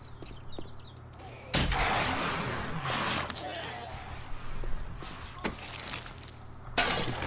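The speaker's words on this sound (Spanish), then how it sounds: "Esos tiros no son nuestros, suenan... no sé." Gunfire in the zombie survival game 7 Days To Die: a few sharp, distant-sounding shots cracking at irregular intervals over a low steady drone, with voices chatting in between.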